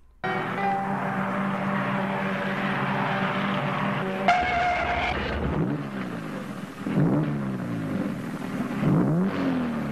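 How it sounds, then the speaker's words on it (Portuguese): A race car cornering on a track curve, a sustained engine drone followed by a gear change and screeching tire skids that sweep up and down, moderately loud and without speech. "Cuidado na curva 3 que está derrapando muito."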